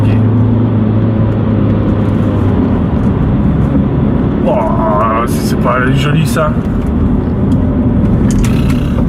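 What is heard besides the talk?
BMW 120d car driving on a narrow road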